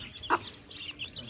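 A hen gives a single short cluck near the mic, in a backyard coop with hens and chicks being fed millet, over faint low background noise.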